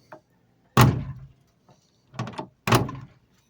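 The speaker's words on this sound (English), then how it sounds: "The door's shut amazingly well" A car door on a 1966 Ford Mustang closes with a solid thunk, followed by a couple more close latch clunks and knocks, short and distinct against a quiet background.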